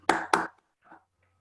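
Two sharp, close hand claps for a student in a class, evenly spaced, followed by quiet faint sounds.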